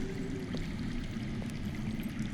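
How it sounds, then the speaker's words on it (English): Underground water flows steadily in Game of Thrones: A Telltale Series, a continuous low rushing stream with faint trickles, even and unbroken throughout. "That's water. I hear water. From underground."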